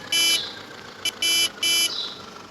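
A Mahindra tractor fitted with a rotavator sounds its horn in loud, close, nasal blasts: one short honk, a tiny blip, then two slightly longer honks in quick succession.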